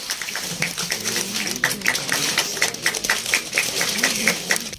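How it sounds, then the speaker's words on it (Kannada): Audience applause at an album launch event, a steady patter of many hands clapping for several seconds, moderately loud and even throughout. "ದಯವಿಟ್ಟು ಜೋರಾಗಿ ಚಪ್ಪಾಳೆ ಬರಲಿ"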